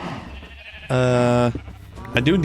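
Cows mooing in the video game Minecraft, one loud drawn-out moo up close between stretches of someone talking, with another shorter moo starting at the end.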